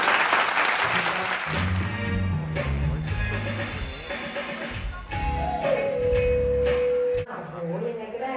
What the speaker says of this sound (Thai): ขอเสียงปรบมือกับทุกท่านบนเวทีด้วยนะครับขอเสียงปรบมือนะครับ